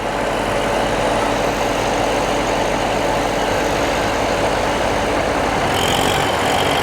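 Massey Ferguson 241 (42 HP) and New Holland (37 HP) tractors run in low first gear, their diesel engines a steady, loud rumble throughout with no talk.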